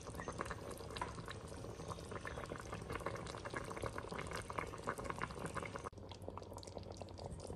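Chicken stew in red wine with rosemary simmering in a pot, a steady, fairly quiet bubbling with dense small pops throughout, briefly dipping near the end, no one talking.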